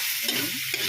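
Vegetables for chopsuey stir-frying in a pan, a close, continuous sizzle with a few soft scrapes of stirring.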